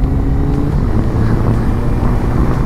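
A big four-cylinder Suzuki Bandit motorcycle engine roars loudly and close, a steady deep drone with slight rises in pitch as it revs, with wind noise and no talking.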